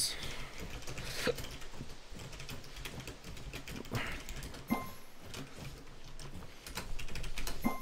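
Keys clatter on a keyboard during a video game session in scattered bursts of light, quick clicks. The clicks are fairly near, with faint background sound.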